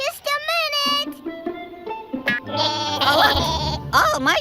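A cartoon sheep bleats after falling over, a wavering, voiced cry that rises and shifts in pitch, loud and close, with other animated sounds briefly mixed in and no clear speech.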